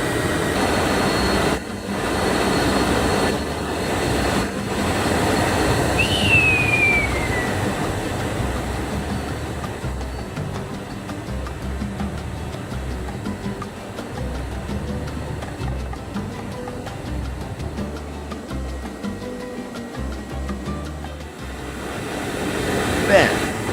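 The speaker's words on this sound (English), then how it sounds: "The aircraft has started taxiing to the runway for takeoff." An aircraft taxiing toward the runway before takeoff in Venezuela, heard from inside as a steady rumbling drone with rattling and bumps from rolling over the ground, holding at a moderate level throughout without speech.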